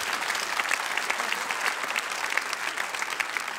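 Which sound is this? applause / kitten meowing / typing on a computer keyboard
applause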